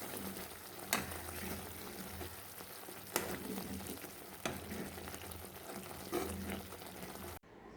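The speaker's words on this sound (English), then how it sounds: "Can you hear the sizzling sound?" Soft, steady sizzling of ghee frying in a pan, with a few sharp pops and crackles. It is quiet and there is no talking.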